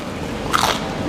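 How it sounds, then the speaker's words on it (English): One sharp, crisp crunch of a bite into a brittle dosa, close up and brief. "This is incredibly crunchy."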